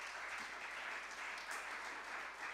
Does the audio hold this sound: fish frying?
no